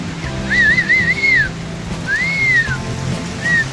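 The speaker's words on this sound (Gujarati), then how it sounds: "હા એ વરસાદ જો" Steady rain patters throughout, with a loud, wavering human whistle sounding over it in a few long rising and falling phrases.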